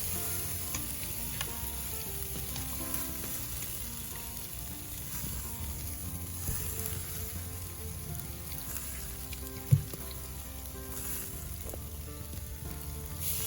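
Chicken sizzles steadily in a pan with onions while cooking for chicken yassa, a dense continuous frying crackle with one sharp clink partway through, no voices.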